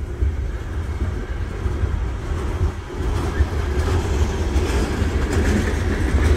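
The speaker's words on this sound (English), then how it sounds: "That could be a Birmingham train." A freight train loaded with scrap passing close by, a loud continuous rumble with rhythmic clickety-clack of wheels over rail joints and faint metallic squeals.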